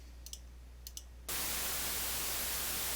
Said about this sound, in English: There's my example of white noise.